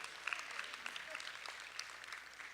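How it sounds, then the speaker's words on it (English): Audience applause at a motivational speaking event, faint scattered clapping heard from a distance, thin and uneven over a couple of seconds. "Give them a round of applause,"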